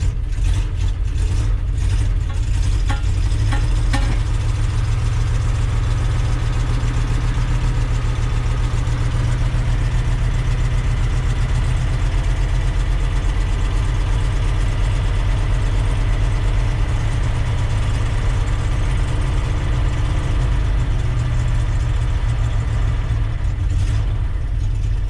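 A 1973 Ford F250 engine idles after a cold start in freezing weather, a loud, close, steady low rumble holding without pause throughout.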